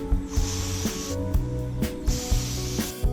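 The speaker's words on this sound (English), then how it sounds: "We'll give the axle a clean with WD-40." Short bursts of WD-40 spray hiss onto a motorcycle axle during a chain replacement on a Honda Grom, two main sprays separated by handling clatter.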